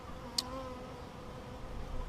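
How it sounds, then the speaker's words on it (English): Honey bees hum at the entrance of a newly installed hive, with guard bees out front: a low, steady buzzing drone that runs the whole time, fairly faint, with one brief sharp tick early on. "They'll have guard bees out here"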